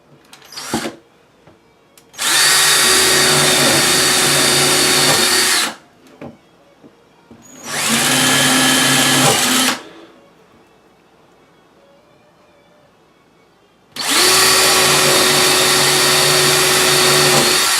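A power drill boring shelf pin holes into a kitchen cabinet side runs in three loud, steady whines of a few seconds each, separated by quiet pauses and a couple of short blips.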